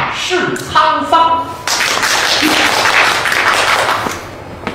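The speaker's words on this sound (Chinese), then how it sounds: "谢谢大家的掌声。" Audience applause fills a storytelling theater at a Deyun Society crosstalk show, starting after a sung closing line and quickly swelling into dense, sustained clapping that continues to the end.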